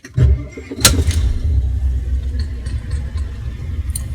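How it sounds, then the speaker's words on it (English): A truck engine cranks briefly and catches with a loud burst, then settles into a steady low diesel idle that rumbles on close by, with no voices. "Turn the truck on."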